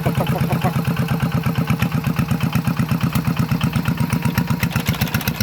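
A small single-cylinder walking tractor engine chugs steadily nearby, its rapid, even putt-putt beat loud and unbroken throughout.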